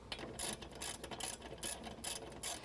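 A hand ratchet clicks in steady bursts as a brake caliper mounting bracket goes back on during a disc brake job. There are about six quick, bright, close clicking runs with short pauses between them, and nobody speaks.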